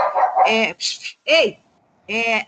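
A pet dog at home gives several short, close, loud barks and yips in quick succession, with brief pauses between them.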